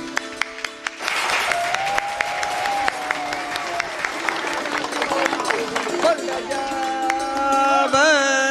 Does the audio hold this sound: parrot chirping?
no